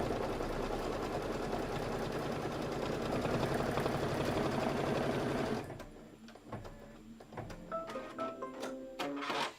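A sewing machine stitches a placement trim line on a Kimberbell table topper project, whirring fast and steady for several seconds. The motor then stops, and scattered clicks and handling noises follow.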